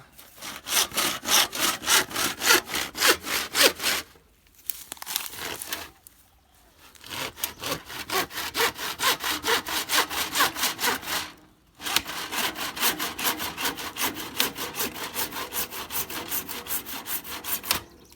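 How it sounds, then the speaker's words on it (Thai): Steady back-and-forth hand sawing through pipe with rhythmic rasping strokes, pausing briefly a few times before resuming at the same pace. "เดี๋ยวผมจะเลื่อยละ"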